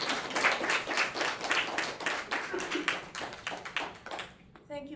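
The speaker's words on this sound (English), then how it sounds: "let's applaud you first" A lecture audience applauds after a talk on neopopulism and democracy. The dense, close clapping is steady for several seconds and then fades out. A voice speaks under the clapping near the start.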